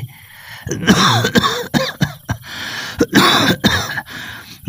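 Several harsh, rasping coughs from an old man with a fever come in quick bursts close to the microphone, with short throat-clearing sounds between them.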